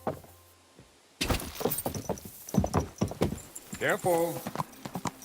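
Horse hooves clip-clop in the medieval role-playing game Kingdom Come: Deliverance II, a quick rhythmic series of close thuds mixed with a brief whinny and crashing clatter, under a man's spoken lines.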